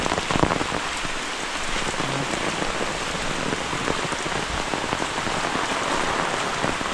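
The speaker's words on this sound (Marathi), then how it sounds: "जाम पाऊस पडतो गावी, एवढा पाऊस आणि सगळ्यांची झाले नुकसानी" Heavy monsoon rain pours steadily over a Konkan village, a dense, unbroken hiss of drops striking surfaces at close range, with no voices and no letup for the whole stretch.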